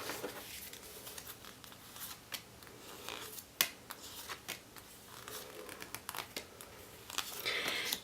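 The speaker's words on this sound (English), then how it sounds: "one more shuffle." A deck of reading cards being shuffled by hand, soft quick riffles and slides with scattered crisp clicks and flicks close by, quiet and intermittent across several seconds.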